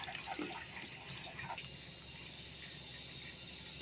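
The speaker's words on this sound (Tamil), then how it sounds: "இப்போ தண்ணி ஊற்றிட்டோம்." Water poured from a vessel into a pan of Pallipalayam chicken, a short splashing burst near the start that settles into a soft, steady trickle and low hiss, close and fairly quiet.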